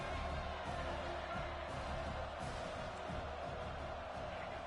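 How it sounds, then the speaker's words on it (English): A stadium crowd at a college football game near the goal line roars in a dense, continuous wash of cheering, steady and distant-sounding, with no clear single voices standing out. "The crowd really making some noise now, trying to help out this defense"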